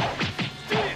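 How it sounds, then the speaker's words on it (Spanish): Crystals shattering in the video game Dragon Ball Xenoverse 2, three sharp close crashes in quick succession. "Me encanta romper los cristales."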